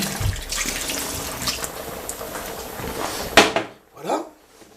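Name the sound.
pouring water, tomato sauce and spice mixture into couscous pot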